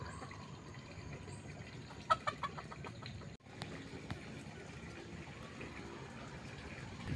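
A native junglefowl hen gives a quick series of soft clucks while laying eggs, faint against steady outdoor background noise, with a brief cut in the sound partway through.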